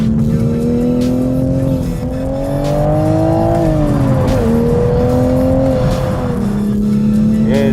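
A Toyota GR Supra roars loudly and continuously as it accelerates in third gear on a race track, engine pitch climbing steadily with brief dips, heard from inside the car with a faint voice now and then.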